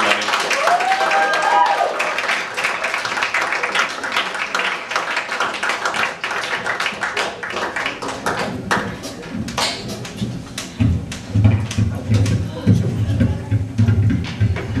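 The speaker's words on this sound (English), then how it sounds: "Clap for him." Applause fills a room as a guest is thanked on a campus talk show, scattered clapping and crowd noise near and steady, with some knocks and taps later on.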